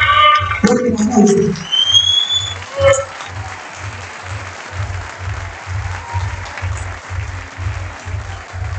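Sustained audience applause at a kayak surf world championship closing ceremony in Argentina, steady clapping that fills the clip, with a rhythmic thumping music beat underneath and a brief voice early on.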